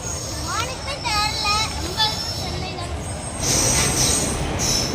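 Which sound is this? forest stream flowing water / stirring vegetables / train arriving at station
train arriving at station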